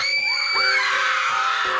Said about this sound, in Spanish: ¿Por qué estaban chillando con semejante histeria?